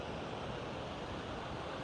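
Ocean waves near an outdoor yoga session, a steady, soft broadband wash of surf like rushing noise, faint and continuous with no voices.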